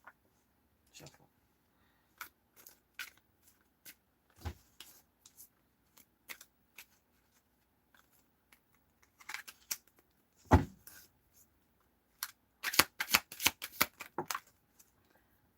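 Tarot cards are shuffled by hand in faint, scattered riffles and taps, growing into a denser flurry of crisp card snaps near the end.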